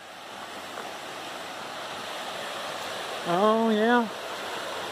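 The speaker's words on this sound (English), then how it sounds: "it sounds like pretty waterfalls" Steady broadband rush of a waterfall on Jefferson Brook along the Appalachian Trail near Moosilauke, New Hampshire, constant and moderately near, with a brief spoken remark over it.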